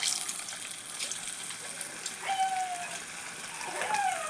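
Chicken 65 pieces sizzle as they fry in hot oil at home: a faint, steady crackling hiss throughout, with soft bubbling and a few brief squeaks near the end.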